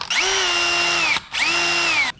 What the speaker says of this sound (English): Drill a pilot.